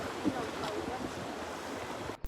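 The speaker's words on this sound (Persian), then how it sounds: "رودخونه هم خروشان بودش" A rushing river rumbles and splashes steadily during rafting, heard as continuous broadband water noise with some wind buffeting the microphone.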